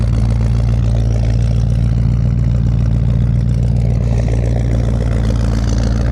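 A car engine idles outdoors at about one degree below zero, a loud steady low rumble with an even rhythm that holds throughout and no speech over it.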